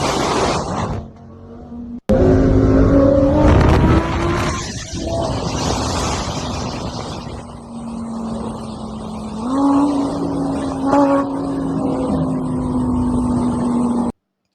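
Lamborghini cars racing on a street, a loud engine roar rising and holding steady as the car passes close, with pitch shifts from gear changes.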